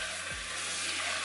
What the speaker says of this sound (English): you want to fry these spices